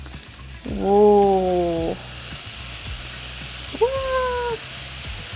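Potatoes (gamja) fry with garlic in a hot pan, giving a steady sizzle throughout. Two harmonic, cat-like squeals cut over it partway through, and a voice briefly exclaims.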